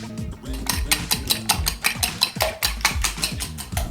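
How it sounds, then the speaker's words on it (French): Three eggs being beaten in a bowl, a quick steady rhythm of whisk strokes clinking against the bowl, close and clear with no talking. "Dans un autre bol, cassez les 3 œufs et battez-les."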